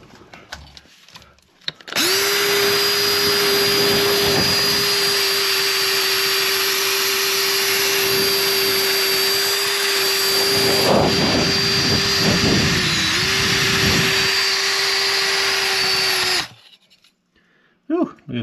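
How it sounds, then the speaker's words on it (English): A drill spins a scrubbing brush inside a French drain in one long, steady high-pitched whine, loud and close, with brief grinding scuffs before it winds down. "let's go scrub out the drain"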